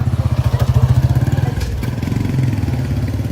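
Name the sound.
motorcycle taxi (bodaboda) engine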